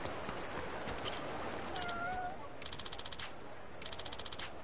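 A cat meows once, short and fairly faint, over a busy, noisy background in the game Like a Dragon: Infinite Wealth, with clicking and rattling sounds around it.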